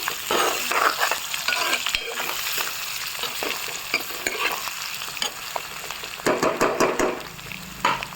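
Boiled potatoes fry and sizzle in a pan, stirred with a steady scrape and clatter; the dense sizzling hiss stays close and loud throughout, with a burst of sharper stirring knocks near the end.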